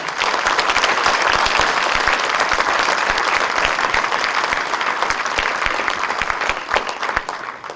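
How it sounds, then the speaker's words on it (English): A lecture audience breaks into rousing, sustained applause, dense crowd clapping that holds steady for several seconds and thins slightly toward the end, with no talking over it. "So I would request everybody to give him another rousing applause"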